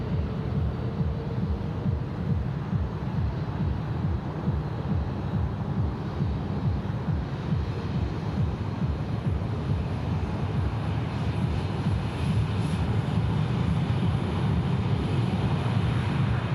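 An aircraft engine rumbles steadily at Sydney Airport as a Cessna takes off, a continuous, fairly loud low roar with no voices over it.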